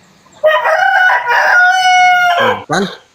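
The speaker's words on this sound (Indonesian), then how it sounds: "Biar tidak ada suara ayam-ayam berkokok begitu ya" Several roosters crow in long, loud, drawn-out calls with a short cluck or second crow at the end, with no talk over them.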